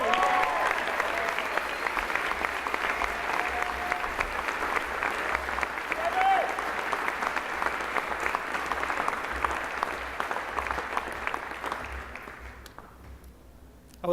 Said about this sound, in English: let's give a huge, huge, huge Rimington Trophy round of applause for Nicholas Bell